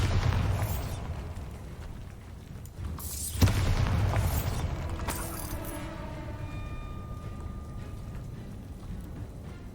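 Spell blasts in the Hogwarts Legacy video game: a loud boom bursts out around the third second, then rumbling, creaking debris and mechanical noise trail off over several seconds with no voices.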